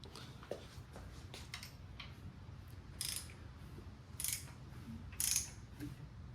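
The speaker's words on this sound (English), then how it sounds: "Now I'm going to spin the motor around until there's no longer tension on these two." An LS V8 engine being turned over by hand during a cam install gives quiet ratcheting clicks and light mechanical ticks, with a few brighter metallic clinks spaced a second or so apart against a low background hum.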